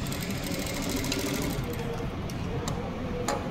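A sewing machine stitches a katori blouse in a tailoring class, a steady fast mechanical whirr running throughout with a few light clicks near the end.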